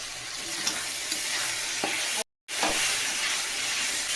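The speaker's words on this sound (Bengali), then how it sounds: "এবার মশলাটাকে খুব ভালো করে কষিয়ে নিচ্ছি।" Spice paste with ginger-garlic paste, cumin and coriander powder frying in a pan for ghugni, a steady close sizzle with occasional spoon scrapes and a brief dropout midway.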